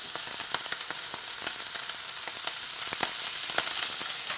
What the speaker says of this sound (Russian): Пока у меня там чеснок обжаривается вместе с панчеттой, гуанчале, копченым салом.